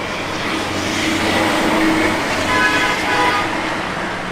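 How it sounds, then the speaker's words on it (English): Steady road traffic passes outdoors beside a parked 1970 Plymouth Road Runner, a continuous loud rumble and whoosh of vehicles with a brief horn-like tone near the end. "lots of traffic out here today"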